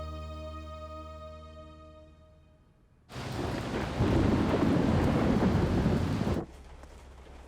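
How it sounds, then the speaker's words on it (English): A cartoon thunderstorm bursts in with a loud, sustained rumble of thunder and pouring rain lasting a few seconds, preceded and followed by calmer tonal background. "Looks like a big storm is coming."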